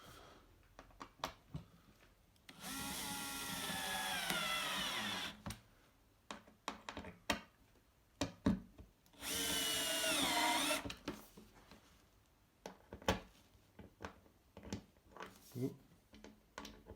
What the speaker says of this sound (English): So going to use self-tapping screws to screw the top down into the support on the